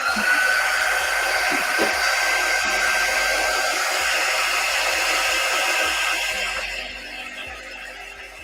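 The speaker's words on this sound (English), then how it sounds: "Let's try quick dry tool for a little bit. Sometimes it blows a little bit more air." A handheld quick dry tool blows a steady, loud whooshing stream of air over a painted craft wood tag, with a faint whine, then drops to a softer level near the end.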